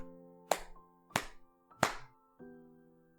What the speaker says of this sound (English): Alicia claps her hands 4 times.